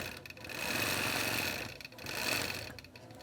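A sewing machine stitching a calendar quilt runs in two steady bursts with a short pause between, close and fairly quiet, with no talk.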